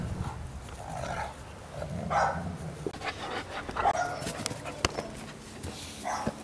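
A dog barks and whimpers a few times at moderate distance over steady outdoor background noise, with occasional sharp knocks.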